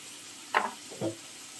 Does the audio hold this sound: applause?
no